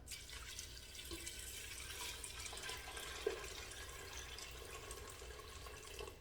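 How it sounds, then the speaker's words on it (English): Steady running water pours continuously at close range, a broad hiss with a brief small clink partway through; no one speaks. "We're gonna cover it with some water."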